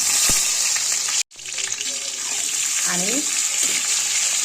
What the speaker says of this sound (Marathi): 1-2 मिनिटं तरी ही वांगी आपल्याला छान परतून घ्यायची.